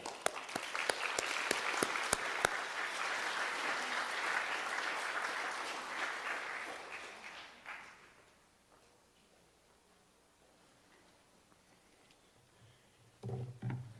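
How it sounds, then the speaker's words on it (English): A banquet audience gives a sustained round of applause that swells, holds for several seconds, then fades out, leaving near silence before a brief low burst at the end. "we want to give her a round of applause as well"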